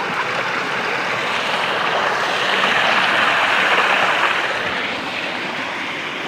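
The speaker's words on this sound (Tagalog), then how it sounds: "At ito naman yung falls." A waterfall at Blue Lagoon in Santa Maria, Laguna, pours in a steady, dense rushing roar. The sound is close and loud, swelling slightly midway, with no voices.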